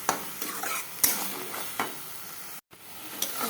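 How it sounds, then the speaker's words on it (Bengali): Spices frying in oil in a pot for mutton curry, a continuous close sizzle broken by several scraping stirs of a spoon, with a brief dropout of silence partway through. "এটা এখন ভালো করে কষাবো, ভালো করে কষাবো।"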